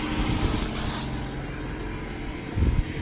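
Spray gun laying automotive clear coat onto a Cadillac dashboard, a loud close hiss for about a second, then a softer steady rush of air with a low thump near the end.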